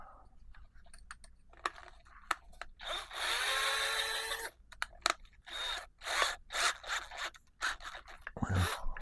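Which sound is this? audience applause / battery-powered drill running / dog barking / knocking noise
battery-powered drill running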